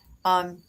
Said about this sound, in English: you can hear the crickets in the background